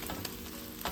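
Eggs and greens frying in a pan for a simple Kenyan dinner and being stirred: a steady sizzle throughout, with a few short scraping bursts from the spoon, close and fairly loud, no talking.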